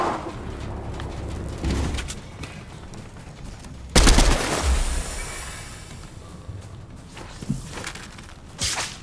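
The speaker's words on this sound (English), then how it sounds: "Are you shooting at them?" Gunfire in a Fortnite duos match, with scattered shots and a louder burst midway, then sparser cracks, all under game ambience.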